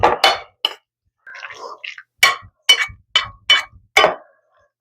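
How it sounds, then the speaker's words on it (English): Green chile chicken enchilada filling stirred together in a bowl, heard as a series of sharp clinks and scrapes of a utensil against the bowl, close and fairly loud, separated by brief silences. "we're going to stir this all together"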